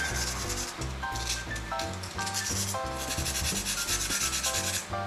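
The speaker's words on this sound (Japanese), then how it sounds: "この240番ですね、 240番でちょっとサビを落としていこうと思います" Rust being sanded off a knife blade with 240-grit sandpaper: continuous rough rubbing strokes in a steady back-and-forth rhythm, close and fairly loud, with background music playing throughout.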